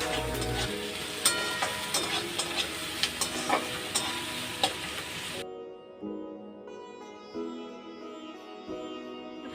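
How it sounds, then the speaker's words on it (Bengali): Chopped onions fry in oil that was already used to fry pointed gourd, giving a busy, close sizzle with rhythmic ladle clicks. The sizzle cuts off abruptly about halfway, leaving a quiet, faint hum. "আমি যে তেলে পটলটা ভেজেছিলাম আমি সেই তেলের মধ্যেই পেঁয়াজটা দিয়ে দিলাম।"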